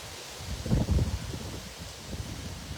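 Gusty outdoor wind buffets the microphone, giving low rumbling thumps that swell briefly and ease back into a soft, steady rush.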